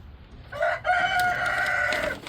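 A rooster crows once, close and loud, a strained rising call held for over a second before breaking off, with faint background noise around it.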